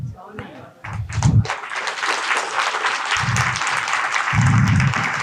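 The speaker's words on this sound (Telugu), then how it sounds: "చప్పట్లు వద్దయ్యా ప్లీజ్." An audience at a spiritual youth talk applauds in a broad, sustained wash of clapping that builds and continues while someone speaks over it in short phrases.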